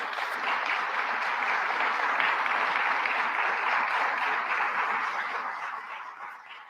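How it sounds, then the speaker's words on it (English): An audience at a gathering with the New York governor in Rochester applauds law enforcement in dense, steady clapping that holds strong for several seconds before tapering off. "the people in law enforcement in this community who deserve a big round of applause"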